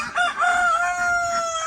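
A rooster on a farm crows in one drawn-out, loud call close by, the tone holding steady and slowly sliding lower until it trails off.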